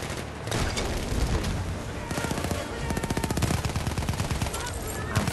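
Loud, rapid video game gunfire with a shotgun involved, a dense stream of shots rattling in quick succession for several seconds, up close and dominating the mix.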